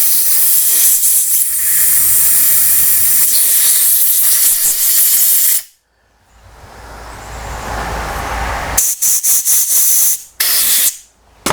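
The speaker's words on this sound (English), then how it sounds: "So I'll just air blow this again" Compressed air hissing loudly through a Briggs & Stratton lawn mower carburetor in long, close bursts, broken by brief pauses and several shorter blasts.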